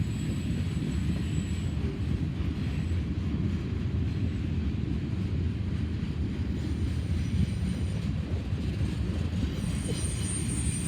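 A long freight train with tank cars and a mid-train locomotive rumbles steadily past, wheels clattering continuously on the rails at a constant, moderately loud level with no pauses.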